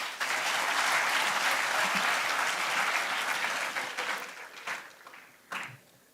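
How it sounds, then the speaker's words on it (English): An audience at a large institutional opening ceremony bursts into loud, sustained applause, dense clapping that rolls on for several seconds before tapering off into scattered claps. "Can we again have a round of applause for sir?"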